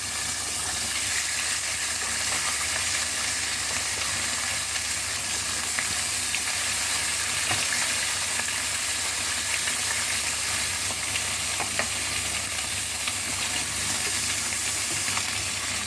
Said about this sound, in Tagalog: Maglalagay po tayo ng konting mantika kasi ipriprito natin yung ating isda.